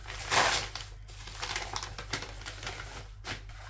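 A mailed envelope is torn open and unwrapped close by, with crisp paper crinkling and tearing in short irregular bursts, a sharper rip near the start.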